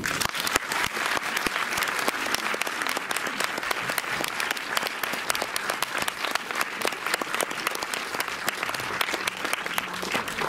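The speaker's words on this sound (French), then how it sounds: "je vous demande s'il vous plaît de faire vos meilleurs applaudissements à Firas Khouri, le réalisateur de Alam." An audience at a cinema screening at the Méliès in Montreuil applauds the director of Alam, with steady, dense clapping filling the room throughout and no talk over it.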